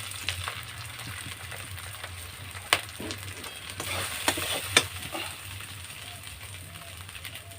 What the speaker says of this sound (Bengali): পেঁয়াজের সঙ্গে আদাটাকে ভেজে নিলাম